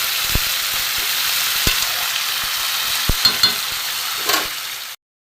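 Katla fish head and rice fried in a pan hiss in a loud, continuous sizzle as water goes in, with a few sharp clanks of a spoon against the pan before it cuts off abruptly.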